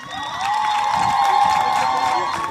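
Audience at a county gender policy launch event clapping and cheering steadily, a sustained crowd roar with whoops and a prominent tonal ring over it, no speech.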